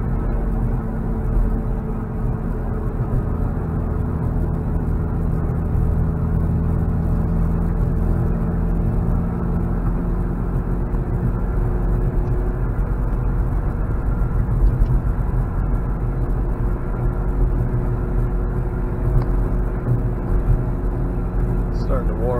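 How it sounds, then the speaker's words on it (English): A 1988 Mazda RX-7 drives along with a continuous low engine drone and road rumble at an even, steady level from start to finish. "Concludes our drive of the 1988 Mazda RX-7"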